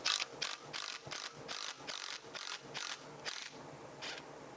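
A ratchet wrench backs a nut off a valve spring compressor during a 5.3L LS engine build, giving about a dozen quick, close, crisp ratcheting clicks in an uneven rhythm.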